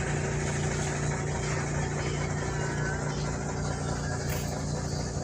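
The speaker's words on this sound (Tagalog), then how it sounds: "Yan po yung kanyang makina." A diesel car engine runs steadily at idle, heard up close from beneath the vehicle, a dense continuous hum and clatter with no pauses.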